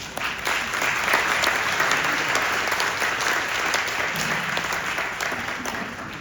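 A church congregation applauds to welcome a guest preacher, steady dense clapping that fills the room at an even level from start to finish.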